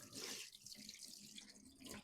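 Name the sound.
rinsing fingers under running tap water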